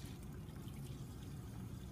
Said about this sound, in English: I always have some water going here